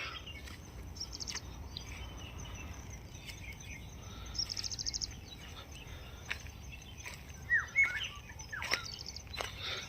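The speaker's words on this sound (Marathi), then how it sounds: "काय सुंदर पक्ष्यांचा किलबिलाट." Birds chirp faintly in the foggy morning countryside near mango trees, giving scattered short calls and a few brief trills over a soft, steady insect hum, with no talk.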